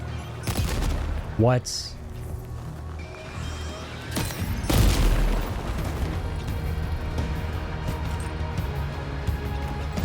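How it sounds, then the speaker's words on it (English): Explosives detonating in Death Stranding 2, deep booms and rumbling blasts with one heavy detonation midway, surrounded by crackling gunfire and a rising whistle, while a voice briefly speaks. "Detonate those up there."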